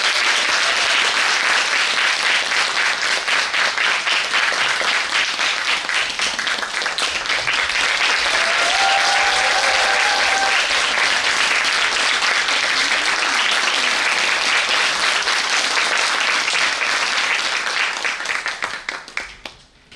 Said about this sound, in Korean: 그러면 방수미 명창과 김태영 고수를 지금부터 큰 박수로 맞이해 보겠습니다.